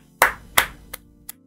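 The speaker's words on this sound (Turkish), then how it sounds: "Alkışlıyorum." One person claps four times, close by. The first two claps are loud and the last two are lighter, all on a quiet background.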